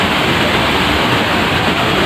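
Water rushes through a partly opened gate of a dam, a loud, steady, broadband roar heard alone and close by.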